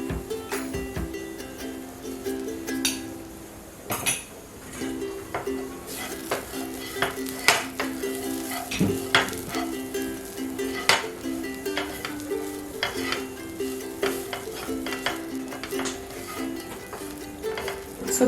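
Garam masala being stirred into fried sweetcorn sizzling in a pan, with a spoon scraping and clinking against the metal in irregular strokes over a constant close fry hiss.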